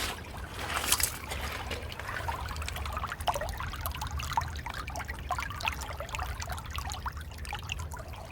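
Water trickling and dribbling out of a crack in snow outdoors, a steady close liquid babble with small splashy bursts throughout, no talking.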